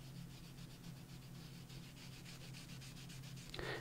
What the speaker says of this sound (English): I'm just going to hold this in place, and I'm just going to rub that in there, on there.